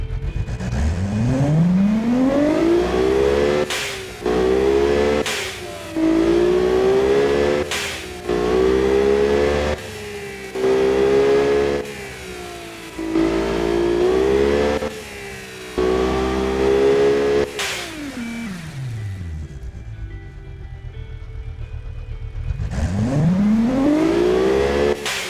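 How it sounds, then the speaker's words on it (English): Tuned turbocharged single-overhead-cam car engine revved hard in repeated rising pulls, each climbing in pitch then dropping back, with short pauses between bursts and a long wind-down before a final rev, loud and close. "Let's hear the engine now."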